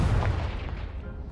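Confringo blasting spell going off in Hogwarts Legacy, a loud, booming explosion with a sharp onset followed by a rumbling decay over about a second, with no speech.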